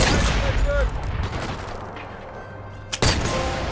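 Sniper rifle fire in the Sniper Elite VR video game: a heavy shot burst at the start, a quieter stretch with faint game sounds, then another sharp shot near the end.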